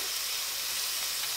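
Garlic sizzles in a hot pan with shrimp and snow peas, a steady close hiss of frying with no voices.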